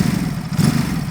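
A 2024 Ducati Supersport 950S engine held at 3,000 rpm and heard at the tailpipe, a loud, close, throbbing low exhaust rumble with a slight surge partway through.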